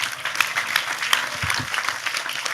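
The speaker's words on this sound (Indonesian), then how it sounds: "Sekali lagi tepuk tangan lebih keras untuk Tejo" A live audience at an informal talk show breaks into dense, continuous applause, many hands clapping at once throughout the short stretch with no voices over it.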